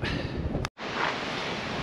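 Coastal wind on the island of Fogo roars steadily across the microphone, loud and broadband, cut off by one brief dropout before rushing back just as strong.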